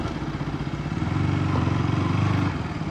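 A KTM RC 200 motorcycle being ridden, its engine giving a steady, close, pulsing drone that swells slightly mid-ride, with no talk over it.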